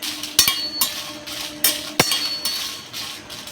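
Dried red chillies being dry-roasted in a pan, with repeated clinks and metallic taps of a spoon against the pan in an uneven rhythm, close and clear, no talking.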